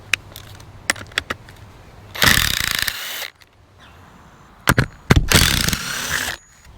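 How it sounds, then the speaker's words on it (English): Bolts on an electric fence unit being worked loose: a few sharp metallic clicks and ticks, then two bursts of quick ratcheting or rattling, close and fairly quiet, with no talking. "Now all I've got to do is take these 2 bolts out here."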